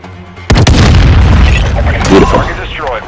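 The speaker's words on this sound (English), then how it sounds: "that explosion just feels so real" A loud explosion in the Call of Duty Modern Warfare II DMZ video game, a sharp blast followed by a long rumbling, crackling tail of debris and echoes lasting several seconds.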